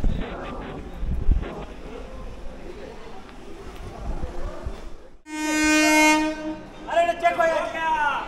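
The 15722 Paharia Express on the Howrah to Digha line rumbles along with a steady rail roar, then a loud, sustained horn blast sounds up close, followed by further shorter horn calls.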